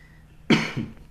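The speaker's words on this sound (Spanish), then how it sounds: "Disculpen ahí la tos." A single close, sharp cough breaks a quiet room, followed by a shorter second burst.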